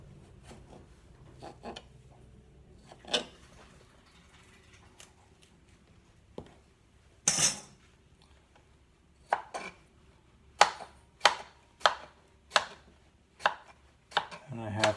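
A small knife cuts the rind off melon pieces, giving soft scrapes followed by a run of crisp, close knocks against a board that come faster toward the end.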